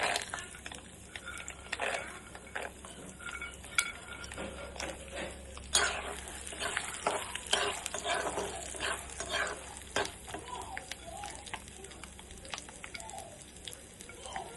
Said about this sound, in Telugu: ఇక్కడ పచ్చిమిర్చి, కరివేపాకు, పలుకులు వేస్తాం, పలుకులు వేసేయాలి.